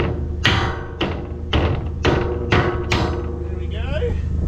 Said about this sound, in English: I got me a hammer big enough to do that.